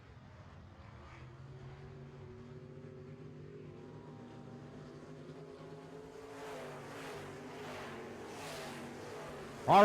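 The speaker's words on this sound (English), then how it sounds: "we are racing already here in your Castro Midwest Modified Heat number 1" Midwest Modified race cars run a heat at Castro, a steady engine drone building louder near the end as cars roar past the microphone, the sound carrying across the track.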